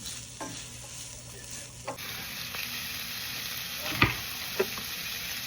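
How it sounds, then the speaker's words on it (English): Onions sautéing in a pan, a steady close sizzle and hiss with occasional light clicks and taps of a stirring utensil. "Sauteing my onions until they're nice and soft."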